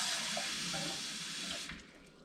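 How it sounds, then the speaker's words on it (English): A cup of water is poured into a bowl of raw rice, a steady splashing rush that cuts off and fades near the end, heard alone without talking. "I'm gonna go in with a cup of water."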